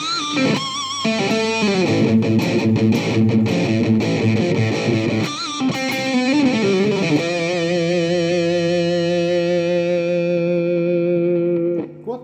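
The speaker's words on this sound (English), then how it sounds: "It's your really heavy sort of dirty distortion" Heavy, dirty distorted electric guitar through a small Roland Micro Cube amp on its Rectifier setting. Fast chugging riffs and stabs give way to a long, ringing sustained chord, loud and close, with no talking.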